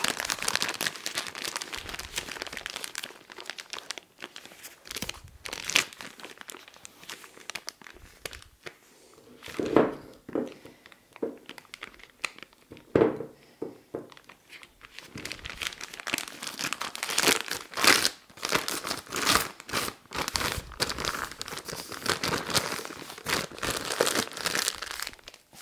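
Plastic piping bag fitted with a 124K nozzle crinkling as two shades of cream are loaded in, close and steady rustling that pauses briefly midway, then resumes busier, no talk.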